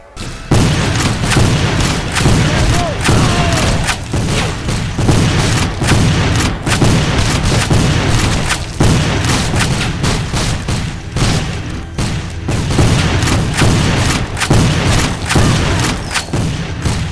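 Gunfire in the PC game Civil War Secret Missions: loud, repeated booming shots and volleys crack out at irregular intervals over a dense battle din, with no voices.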